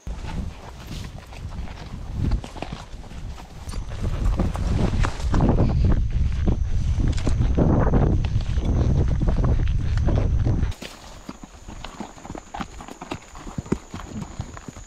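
Horses walking on an estancia in Uruguay, hooves clip-clopping in a steady close rhythm with wind buffeting the microphone, the noise heavier in the middle before the hoofbeats continue more clearly near the end.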